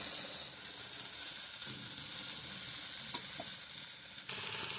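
Steady, dense sizzling of ingredients sautéing in a pan, with occasional faint stirring clicks, continuous and fairly close, no voices.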